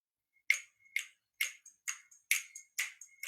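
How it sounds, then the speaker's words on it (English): A wall clock ticks indoors with crisp, close, evenly spaced taps, about two per second, heard clearly against silence with no talking. "Do you hear my clock ticking?"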